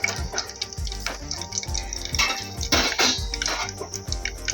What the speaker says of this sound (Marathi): थोडासा मसाला तेलामध्ये फ्राय झाला